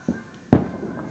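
Firecracker going off outdoors on New Year's Eve: two sharp, close bangs about half a second apart, the second louder, with a short noisy tail after each.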